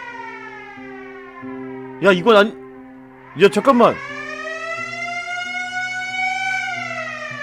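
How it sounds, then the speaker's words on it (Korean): A wailing siren sounds steadily, pitch sliding downward then climbing, while someone speaks in two short, startled bursts over it, as white smoke seeps under a bedroom door. "사이렌 소리가 울리는데"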